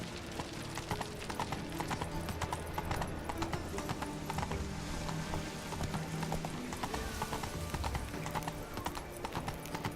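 Galloping horse hooves in The Witcher 3 video game, a steady rapid clip-clop running throughout at close range, with an occasional whinny and game music beneath.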